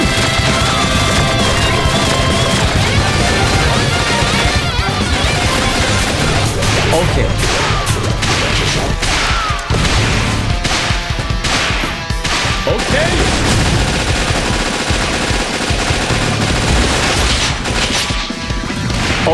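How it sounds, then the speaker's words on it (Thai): Rapid gunfire and crashing explosions from the Metal Slug Awakening video game, a loud, nonstop barrage of shots, blasts and impacts laid over game music with no break. "ได้เวลาสาดกระสุน"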